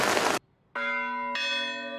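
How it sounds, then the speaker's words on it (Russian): Two resonant strikes from the historic bell ensemble of the Danilov Monastery ring out one after another, each tone sustaining with rich overtones after a brief burst of noise. "полностью сохраненный исторический ансамбль колоколов Свято-Данилова монастыря"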